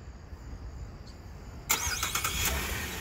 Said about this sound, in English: That right there was the auto start feature that you can find on the key fob.